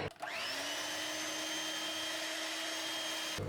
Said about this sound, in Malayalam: അത് കുറച്ച് ചേർത്ത് ഒന്ന് ബീറ്റ് ചെയ്തെടുക്കാം